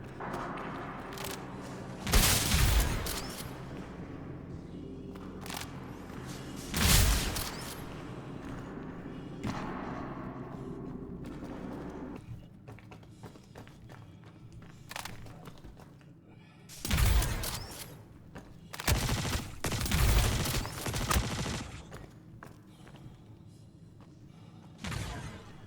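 Gunshots in the video game Star Citizen in a dark cave, heard as a few loud, sharp bursts spread across the stretch, with quieter game ambience and thuds in between.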